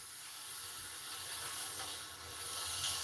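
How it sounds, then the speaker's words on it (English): A steady, bright hiss of ribeye steak sizzling in a hot skillet, continuous and close, slightly swelling toward the end with no voices. "Listen for that sizzle."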